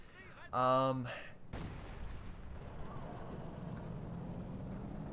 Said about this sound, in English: Fire the B4 kablooey.